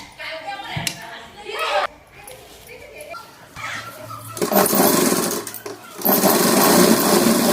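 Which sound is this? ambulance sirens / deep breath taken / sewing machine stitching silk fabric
sewing machine stitching silk fabric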